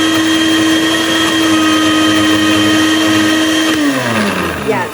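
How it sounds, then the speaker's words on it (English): A home electric blender runs loudly and close with a steady motor whine, then slows down near the end as the pitch drops, while a voice speaks briefly over it. "The blender is not working because, as I said, for this specific one I have to press."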